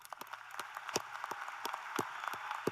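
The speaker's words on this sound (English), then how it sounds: "please join me in a huge round of applause for these amazing graduates." A crowd at the 2025 Spanish River Community High School graduation applauds the graduates, heard as moderate, slightly distant clapping with a handful of crisp individual claps rising above the softer background.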